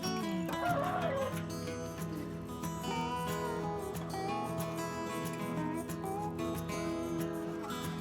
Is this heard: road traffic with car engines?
no